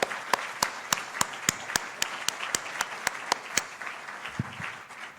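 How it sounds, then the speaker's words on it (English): Applause at a conference: sharp, evenly spaced claps in a steady rhythm for about three and a half seconds, then fading into soft room noise with a brief low thump. "I suggest we give these guys a round of applause."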